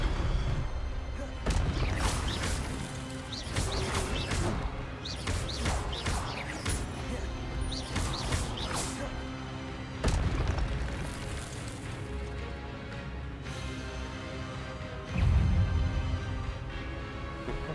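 Spell casting in the Hogwarts Legacy video game: a dense run of magical bursts, whooshes and booming impacts over a busy game soundtrack, with sharp hits recurring every couple of seconds and a heavier blast near the end.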